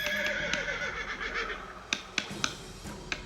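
A horse whinnies in the video game West of Loathing, a drawn-out neigh followed by a few sharp clip-clop-like hoof knocks near the end, over a steady background hum.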